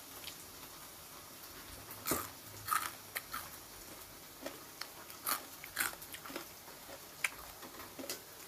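Quiet, close crunching bites into crisp fried vegetable chips, a scattered series of sharp crackles spread over several seconds with soft hiss between.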